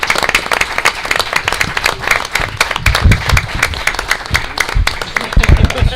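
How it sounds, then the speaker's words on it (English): Applause from an audience at a town council meeting, a dense run of clapping that holds steady for several seconds and swells near the end, with low rumbling room noise underneath. "let's get a round of applause from everyone here."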